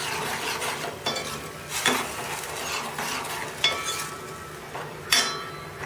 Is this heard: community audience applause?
no